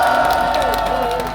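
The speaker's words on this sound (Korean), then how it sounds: "여러분 박수 한번 쳐주십시오." Crowd at a political rally in Korea clapping and cheering, a brief loud burst of mixed applause and shouts with steady tonal sound underneath.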